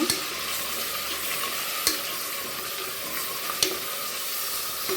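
Steady frying sizzle of mutton sautéing in a pan, with occasional scraping and stirring clicks from a utensil, close up, with no voices.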